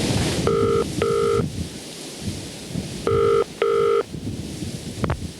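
A telephone rings in two double-burst rings, a pause between them, loud and close in a quiet room at around four in the morning, with faint background hiss.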